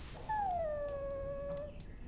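A dog in Dragon Age: Origins lets out a single drawn-out whine that starts high, falls, then holds steady for over a second before trailing off, close and clear with no talk.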